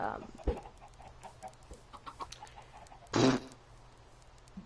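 Chicken clucks from a video game played among friends, a loud burst of squawking fowl sounds standing out briefly mid-clip over quieter game noise and background chatter.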